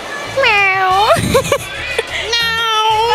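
A person imitates a cat, giving two drawn-out sung meows close to the mic with a short giggle between them.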